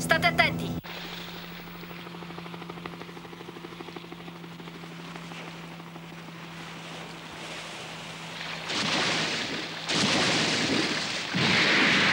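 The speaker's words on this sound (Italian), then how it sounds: "Elicottero da ricognizione PH202 a Ponte. Avanziamo a bassa quota." A cartoon sound effect of a reconnaissance helicopter flying low: a steady droning rotor hum with rushing wind noise that swells in bursts toward the end, under spoken dialogue.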